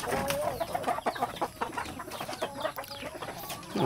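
Several chickens cluck and chatter close by in a busy, overlapping stream, with no talking.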